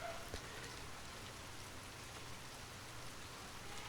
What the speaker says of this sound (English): The sound of water dripping from eaves and leaves creates a natural music box